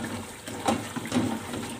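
Water is poured into a pot of soaked rice for beef moti pulao, a soft, steady splashing and gurgling that lasts under two seconds and is fairly quiet.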